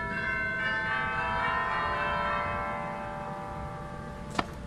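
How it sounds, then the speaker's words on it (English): Chimes of a 1919 Casavant pipe organ in a basilica ring out as a sustained, resonant bell-like chord that slowly decays, with one sharp brief knock near the end. "The chimes are also available in the choir division."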